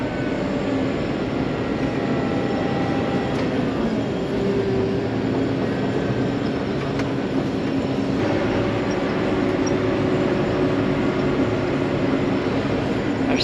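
Continuous low rumble of railroad cars rolling along the track, steady and fairly loud, with faint metallic squeals and tones riding on top, near a rock stockpile loading site.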